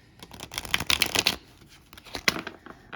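A deck of tarot cards is shuffled close by in a fast papery riffle lasting about a second, followed by a few shorter, softer flicks of the cards, with no talk.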